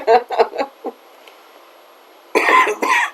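A few sharp, loud human coughs close to the microphone, a quick cluster at the start, a quiet gap, then two more harsh coughs at the end.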